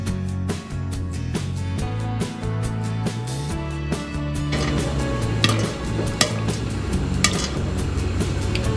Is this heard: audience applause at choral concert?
no